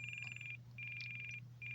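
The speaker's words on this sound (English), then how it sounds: "smart battery alarm." Spektrum NX6 RC transmitter sounding its smart battery alarm: close, loud trains of rapid high electronic beeps in three bursts separated by short gaps, over a low steady hum, with no talking.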